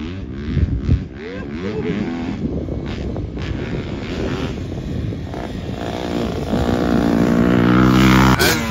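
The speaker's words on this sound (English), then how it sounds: "And back to the two-stroke, mixing gas and hauling ass." Two-stroke dirt bike engine revving loudly and close, its pitch rising and falling in repeated throttle blips and building to a sustained high-rev roar near the end, with a four-stroke bike also running.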